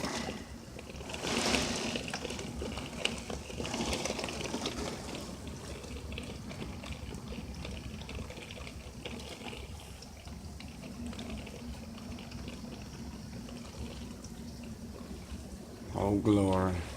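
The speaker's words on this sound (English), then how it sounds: "It's like a monsoon out this bitch." Heavy rain pours down outside during a tornado warning, a continuous soft hiss and splash of water over puddled ground. The sound is fairly quiet, with a louder burst near the start.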